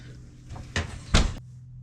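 An electric oven door that won't heat being opened, two loud clunks of the hinge and door close together, then quiet.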